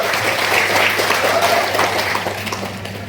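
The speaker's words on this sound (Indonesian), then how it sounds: "Tepuk tangan untuk kita semua." An audience at a digital marketing content creator workshop breaks into loud, continuous applause that holds steady, then tapers slightly toward the end, with crowd murmur mixed in.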